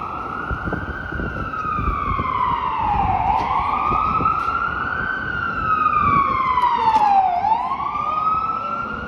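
Emergency vehicle sirens wail along Yonge Street in Toronto, a continuous rising-and-falling sweep that holds loud and steady over the hum of city traffic, with no one speaking.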